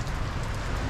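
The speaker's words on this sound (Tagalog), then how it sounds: "Hindi lang umaambon, talagang umuulan na." Steady rain falling outdoors in Burnham Park, Baguio City, a dense, even hiss of drops on surfaces that holds at the same level for the whole second with no voices.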